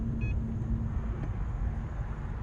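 Subaru WRX STI low on coolant and overheating, rolling down the road with a steady low engine and road rumble throughout, plus a brief faint beep near the start.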